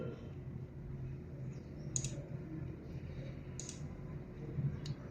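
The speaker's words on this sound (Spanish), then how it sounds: "Le damos clic derecho" A computer mouse gives three faint, separate clicks spaced a second or more apart over a steady low hiss while working in an Excel spreadsheet.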